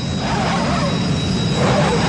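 A cartoon jet engine for the Big Jet character in Little Einsteins makes a loud, steady whooshing roar with a faint high whine, sustained without a break.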